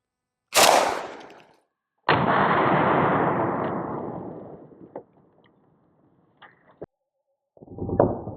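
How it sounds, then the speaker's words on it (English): A Romanian RPK fires 7.62x39 Tula 102-grain full metal jacket rounds at a lightweight Level IV armor plate outdoors. Two loud, sharp reports with long rolling echoes are followed by fainter clicks and a final burst of noise. "This one is Tula, I believe 102 grain full metal jacket, but it's coming out of the Romanian RPK."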